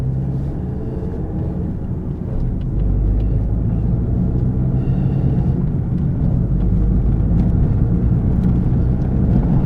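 Abarth 595 Competizione with a short shifter fitted, driving along with a steady low engine and road rumble that swells slightly after a couple of seconds, continuous and close, with no talk.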